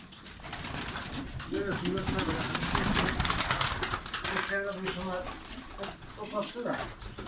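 Konya Çıplağı pigeons coo in repeated soft rolling calls amid a busy background, with a voice talking over much of it.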